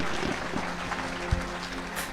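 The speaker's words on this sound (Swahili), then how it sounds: "Pigia Bwana Yesu makofi mazuri." Church congregation clapping for Lord Jesus, a dense steady patter of many hands applauding together throughout, with one louder thump near the end and no clear voices over it.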